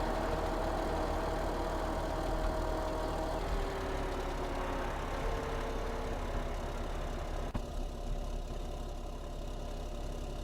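A John Deere tractor engine from Farming Simulator 17 runs at a steady idle, a continuous droning rumble with faint whining tones over it and a single small knock near the end, with no talking.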